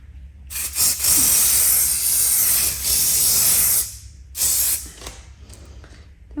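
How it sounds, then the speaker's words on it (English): A spray can mists fixative over a soft pastel base in close, loud hissing bursts: one long spray of about three seconds, then a shorter one, with brief pauses between. "Giving that base a good spray."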